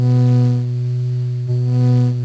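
Native Instruments Lo-Fi Glow synth sounding a sustained, buzzing chord with its distortion macro engaged, steady and loud for a couple of seconds with a brief dip midway, no voices.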